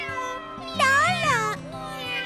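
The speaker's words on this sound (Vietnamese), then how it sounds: "đây là những chú mèo con của Thi Thi" Cartoon kittens meowing in a children's animated bus series, a short run of high, wavering mews near and fairly loud over soft background music.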